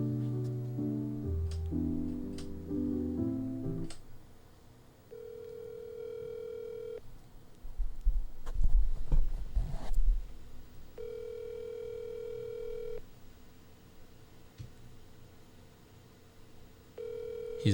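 Phone call ringing out during a Minecraft SMP stream, with a few dialing tones at the start, then repeated steady electronic ringback tones in long pulses separated by pauses, while people talk briefly in the middle.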